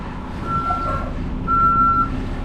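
A concrete truck arrives at a pour site, its loud reversing alarm sounding in two shrill beeps over the low rumble of the idling diesel engine, with no talk.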